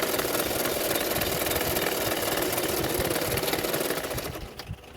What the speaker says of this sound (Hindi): अभी मैं सिलाई कर लूँगी, एक एक सिलाई कर लूँगी मैंने साइड से